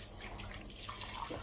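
Water runs steadily from a tap, a continuous rushing splash close by, with a few drips.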